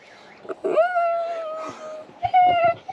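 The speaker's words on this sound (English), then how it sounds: "Dog in the next van." A dog whimpers and whines from the neighbouring caravan at a caravan site, giving two drawn-out, high, wavering cries close by with a short pause between them over quiet background noise.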